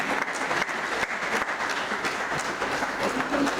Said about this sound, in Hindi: आप लोग अनुमोदना में ताली तो बजा सकते हैं